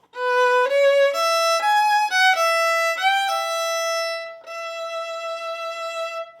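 A solo violin plays a short melodic phrase in first position, clear, sustained bowed notes stepping through several pitches before holding a final long note.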